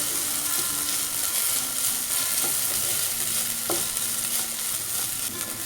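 Okra pachadi for a Kerala sadya is stirred in a frying pan over a steady sizzle, with faint intermittent scrapes of the spatula against the pan and no talking.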